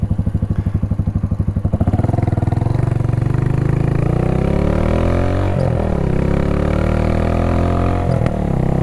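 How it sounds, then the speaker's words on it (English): A Suzuki TU250X motorcycle idles with a loud thumping single-cylinder putter, then pulls away and rises in pitch as it accelerates, with a short dip where it shifts into second gear partway through a turn. "See, already shifting into second gear about halfway through that turn."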